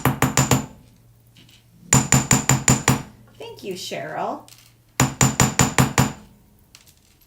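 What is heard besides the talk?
small hammer texturing a metal jewelry star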